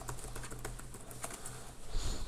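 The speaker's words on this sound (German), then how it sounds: "Jetzt schreibe ich mit der Laptop-Tastatur." Typing on a laptop keyboard, a soft run of rapid, light key taps, close and quiet, with no voices.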